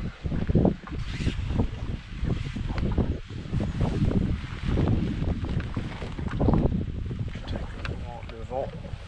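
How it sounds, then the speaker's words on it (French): Strong wind buffeting the microphone outdoors while fishing from a boat in the north, a loud continuous low rumble with gusty surges, and a voice speaking briefly under it. "Le vent."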